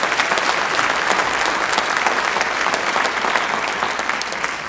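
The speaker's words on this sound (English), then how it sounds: "I would like to give our department coordinators a round of applause" A school audience at a grade transition meeting gives a long round of applause for department coordinators, a loud, continuous clatter of many hands that tapers slightly at the close.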